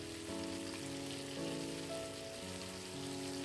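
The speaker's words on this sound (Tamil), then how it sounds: "நான் 2 வானலில் பொரிக்கிறேன்." Chicken pieces for tandoori chicken frying in a pan over low heat, giving a soft, steady patter of crackling oil with a faint tonal hum underneath.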